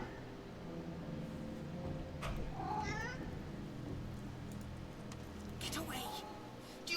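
A cat meows in the fantasy role-playing game Divinity Original Sin 2, a couple of clear wavering cries over a low hum of game ambience and murmuring voices.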